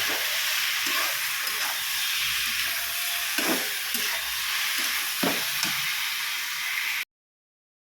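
A Bengali mixed vegetable curry frying in a pan with panch phoron, bori and dried red chillies gives a steady, close sizzle and hiss, with a few soft stirring knocks before it cuts off abruptly near the end.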